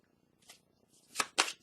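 A tarot card being shuffled and drawn: a soft papery rustle, then two sharper close card snaps in quick succession, with no one talking.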